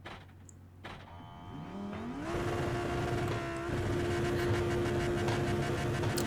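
Lamborghini Huracán GT3 Evo engine in the iRacing video game at Monza, pulling hard out of a corner as its pitch rises sharply and settles into a loud, sustained high-revving drone under full throttle.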